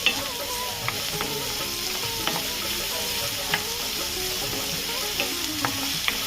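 Onions frying in a pan for Mangalorean chicken sukka, giving a constant close sizzle with regular light clicks and scrapes of a spatula as they are stirred.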